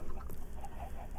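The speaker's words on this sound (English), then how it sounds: "You can hear all the chickens and stuff outside." Faint chicken clucking in the background of the video game Minecraft, a few soft, scattered clucks over a low ambient hum.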